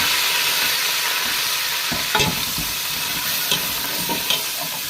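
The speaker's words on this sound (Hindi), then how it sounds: "ये मसाले जाएंगे, इनको थोड़ी देर के लिए भून के 2 मिनट के लिए भून के" Spices frying in a pan for a kidney bean and black-eyed pea curry, with a steady sizzle and a few louder scraping stirs, close and without talk.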